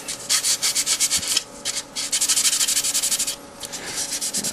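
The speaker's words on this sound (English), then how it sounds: "keep using different spots of the piece of sandpaper or what have you that you're using" Sandpaper rubs back and forth across a piece in quick, even strokes, a close rhythmic scratching with a brief pause in the middle and no speech.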